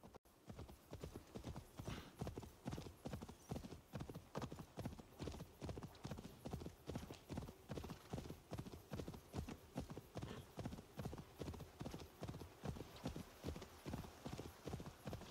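Horse hooves clip-clop in a quick, steady rhythm in the game Assassin's Creed Valhalla, continuous and close for the whole stretch, with no one talking over them.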